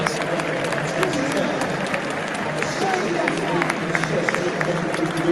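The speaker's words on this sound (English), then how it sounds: "I want to hear the crowd hopefully giving this" Football crowd at a Tottenham Hotspur match applauding and cheering a goal, a dense, steady wash of clapping and roaring voices with scattered sharp claps; a voice talks over it throughout.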